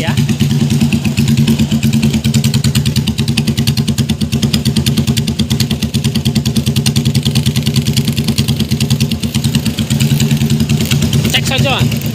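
Harley-Davidson Sportster motorcycle engine running near the microphone, a loud, lumpy rapid thumping idle held steadily throughout, with a voice talking over it.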